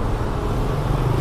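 A 2011 Nissan March idling indoors in a used-car showroom, a steady close, loud low engine rumble with no breaks and no talking over it.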